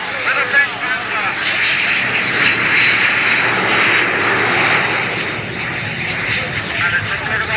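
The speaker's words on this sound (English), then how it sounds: "Up come the revs. Climbing, climbing, climbing." A drag racing car engine at a 1986 UK drag meeting at North Weald revs hard and launches, a loud, sustained roar that dominates throughout with a commentator's voice over it.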